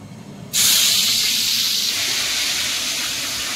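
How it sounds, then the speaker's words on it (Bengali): Fish dropped into hot oil in a pan aboard a boat kitchen bursts into a sudden loud sizzle that then settles into a steady, hissing fry, with no voices. "এদিকে মাছ ভাজা চলছে।"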